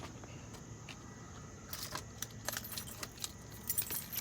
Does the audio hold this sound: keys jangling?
yes